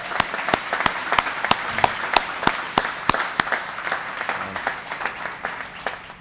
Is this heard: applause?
yes